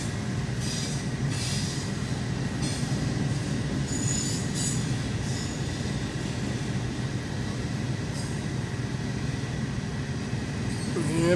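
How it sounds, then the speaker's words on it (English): CSX intermodal freight train of empty cars rolling past in Versailles Borough, Pennsylvania, wheels squealing steadily over a constant low rumble of the cars, close and loud throughout with no talk. "The empties are the end of the train."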